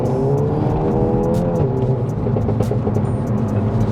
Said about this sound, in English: You've got a Krapovic exhaust, which is quite loud anyway.